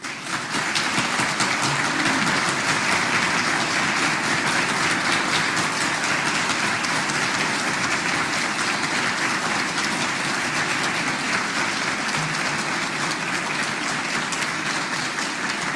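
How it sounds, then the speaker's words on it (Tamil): An audience claps after a talk on meditation and Sri Ramana Maharshi's teachings, with dense, continuous applause lasting the whole stretch at an even level and no voices over it. "நாங்கள் அனைவரும் இணைந்து சில வினாடிகள் கரகோஷம் எழுப்புவோம்."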